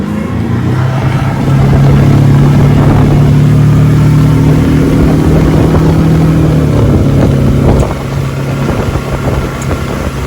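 A Dusky 217 boat's outboard engine runs steadily at 4,000 RPM around 24 mph, a loud, close droning roar with wind buffeting and rushing water, the pitch holding and then easing slightly near the end.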